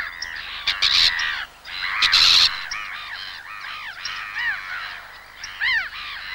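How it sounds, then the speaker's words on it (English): Raucous, repeated alarm cries from birds mobbing a bittern near their newly hatched chicks, loud harsh calls overlapping in quick bursts. "Raucous cries convey their annoyance, and they see the bittern off with swooping mock attacks."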